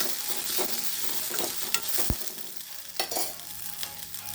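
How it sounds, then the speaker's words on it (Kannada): Fresh ginger fries in a pan for a hyacinth bean curry, a steady close sizzle broken by several sharp scrapes and clacks of a spatula stirring, with no voices. "ಸ್ವಲ್ಪ ಹಸಿ ಶುಂಠಿ ಹಾಕ್ತಾಯಿದ್ದೀನಿ. ಅದ್ರ ಜೊತೆಗೆ ಒಂದು ಸ್ವಲ್ಪ ಹುರ್ಕೊಂತೀನಿ"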